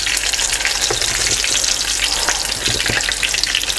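A chicken burger patty fries in hot oil, giving a steady, loud, close crackling sizzle with occasional sharper pops throughout.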